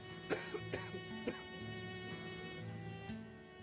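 Someone coughs several times in a quick cluster, then once more after a pause, fairly quiet over a low hum.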